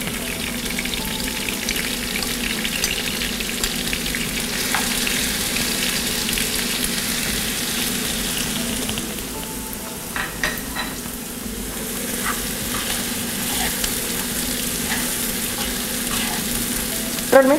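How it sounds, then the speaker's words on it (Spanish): Onion frying in a pan makes a loud, continuous sizzle and crackle, close-up and steady across the whole stretch, with brief bursts of spitting partway through and no voices. "Vamos a adicionar ahora la cebolla."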